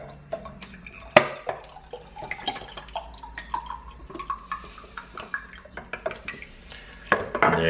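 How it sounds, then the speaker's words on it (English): Vinegar is poured into a small jar in a kitchen, giving gurgling splashes with sharp clinks of glass and a few drips, close and fairly quiet, with a brief louder pour at the end. "So I'm just going to fill up a little jar here with vinegar."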